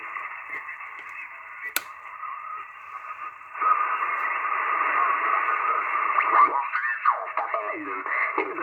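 A 1967 Yaesu FT dx 100 ham radio receiver's static hisses steadily in the CW portion of the band, growing louder partway through, with faint warbling signals and tones drifting across the band.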